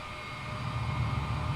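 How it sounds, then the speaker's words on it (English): Simulated Boeing Dreamliner jet taking off in Microsoft Flight Simulator 2020, a steady low engine roar that swells gradually louder, with no voices. "They're cleared for takeoff."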